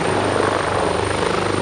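An AgustaWestland AW139 VIP helicopter lifting off close by, its loud, continuous rotor beat and turbine whine filling the air without pause.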